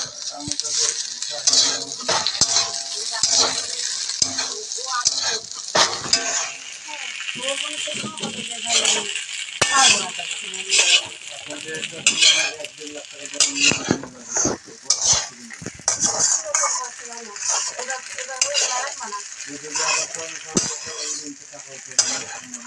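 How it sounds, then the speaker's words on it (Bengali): Pasta tossed with pasta masala in a hot pan sizzles steadily while a utensil scrapes and stirs in irregular strokes, with a voice talking over much of it. "পাস্তা হয়ে যাওয়ার পর এখন আমরা পাস্তা মশলা দিয়ে দিব। এখন আমরা নাড়িয়ে নেব।"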